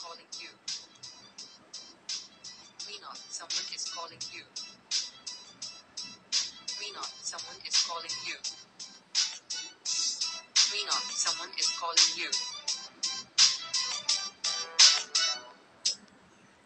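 A personalised name ringtone song plays from a mobile phone, a continuous tinny, bright tune with sung vocals and a steady rhythmic beat, heard on its own throughout.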